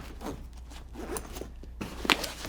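Zipper pulled closed on a Push Division 1 Autococker paintball gun bag, a steady rasping run of teeth close by ending in a brighter final zip.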